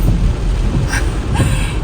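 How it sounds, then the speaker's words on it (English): Heavy rain pours down outdoors in a loud, dense, steady roar with rumbling low noise and occasional brief hissing swells, close and unbroken. "It's raining like nothing."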